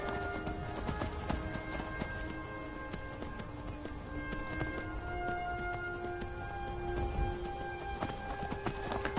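Rapid hoofbeats of a galloping horse in a fantasy role-playing video game, a steady, fast clip-clop rhythm continuing throughout at close range, with game ambience behind and no talking.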